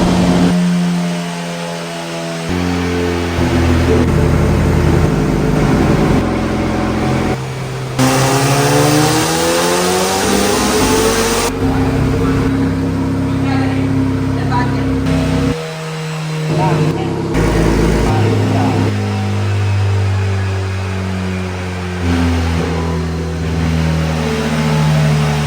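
A Honda K20 race engine on a dyno revs hard and repeatedly, pitch sweeping up and down through high-rpm pulls, loud and close, with brief lulls between runs.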